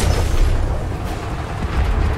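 Ship cannon firing in the video game Atlas makes loud, heavy booms with rumbling low-end that stays dense throughout, with a burst near the middle and more impacts toward the end.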